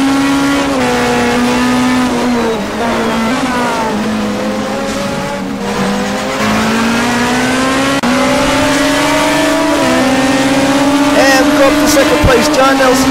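Race cars accelerate hard around the Long Beach street circuit, engines droning loud and steady with rising pitch through the gears, close and continuous, while a commentator talks over them.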